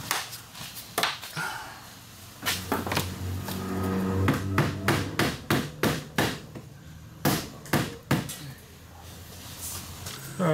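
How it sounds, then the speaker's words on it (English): A hammer strikes a part during engine removal on a 2002 Cadillac Deville DTS, giving a run of sharp metallic blows that speed up into a rapid series of close, loud hits over workshop background noise. "This one is I might have to hit that with a hammer."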